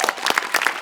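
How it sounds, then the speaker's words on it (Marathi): Audience applause in a comedy show studio, a dense burst of clapping from a live crowd that stays loud and steady throughout, with no talk over it. "हरीश कसपटेंसाठी पण एकदा टाळ्या"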